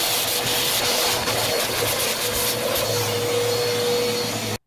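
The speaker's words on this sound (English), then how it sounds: "where I vacuum all sorts of messes that I make" A vacuum cleaner runs steadily and loudly up close while cleaning up a workspace, a continuous whine holding for several seconds before cutting off abruptly at the end.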